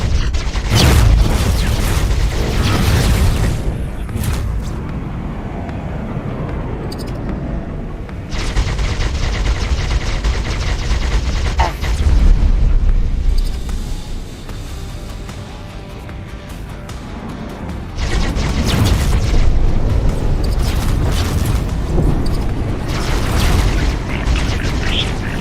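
Xenon turrets on rotating arms fire in X4 Foundations, dense bursts of gunfire and booming explosions in loud waves, with quieter stretches between heavy volleys.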